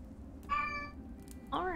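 Two meows from cats in the game Clanfolk, a drawn-out call followed a second later by a shorter rising one, both clear over a soft steady hum.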